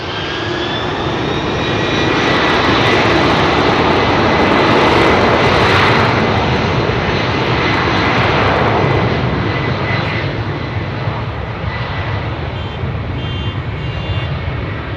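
A Pratt & Whitney-powered airliner departs Heathrow with a loud, continuous engine roar that swells to a peak and then slowly recedes, with no talking.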